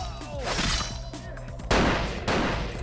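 A newly picked-up gun in the Bloodlines video game fires in a monastery: a couple of loud, close shots ring out over a busy mix of other game sounds.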